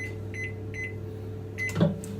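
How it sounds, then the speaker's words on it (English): A microwave oven hums steadily with a constant low drone and a few faint beeps, followed by a brief clunk near the end. "gonna put these in the microwave"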